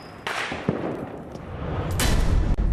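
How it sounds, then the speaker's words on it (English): Fireworks boom and crackle at a Happy Birthday America celebration, a dense wash of distant thumps and bursts building in intensity toward the end, with no voices. "These fireworks are brought to you by the hardworking men and women who are building freedom every single day"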